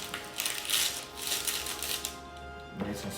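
A knife cuts into a loaf of Puerto Rican pan sobao, giving a close, continuous crackly rasp of crust breaking for a few seconds, with no voices.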